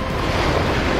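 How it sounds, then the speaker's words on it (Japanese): Ocean surf breaks loudly against a rocky shore at a fishing spot in Mie, Japan, a dense, close wash of churning water and wind noise with no voices. "クソ波くんな。"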